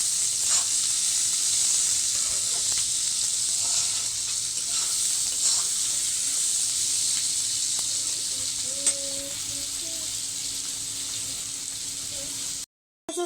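Dried fish and jackfruit seeds with small native garlic and a little salt frying in a pan, giving a steady, loud sizzle throughout with occasional faint stirring scrapes, and no voices.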